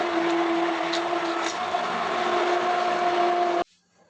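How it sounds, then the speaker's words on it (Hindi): A hand blender whirs steadily while blending peeled tomatoes into a smooth paste for homemade ketchup, a close, constant motor drone that cuts off abruptly near the end. "मैं इस वक्त ये हैंड ब्लेंडर है मेरे पास,"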